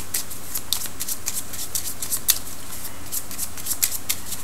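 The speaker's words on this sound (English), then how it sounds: "I'm going to keep shuffling." Oracle cards are shuffled by hand up close, giving a quick series of crisp, papery riffles and slaps with no talking.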